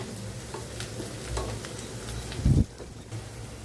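Chopped onion frying and being stirred in a pan while a vegetable dish is cooked, a steady close sizzle with scraping stir strokes and a louder clatter near the end.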